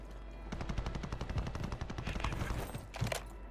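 Rapid automatic gunfire in Call of Duty Warzone 2, a dense, loud run of bursts with a louder volley near the end and no talk.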